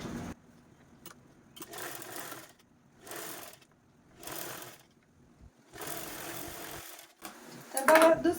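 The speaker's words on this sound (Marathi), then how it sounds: "अशाच पद्धतीने आपल्याला हा स्टिच करून घ्यायचा आहे इकडच्या साईडने" A sewing machine stitching a zip onto a fabric sling bag runs in several short whirring bursts separated by quiet pauses, close and moderately loud, with brief rustling of cloth.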